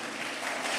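A church congregation claps together in a short, dense, steady burst of applause that stays even and moderately loud, heard without speech.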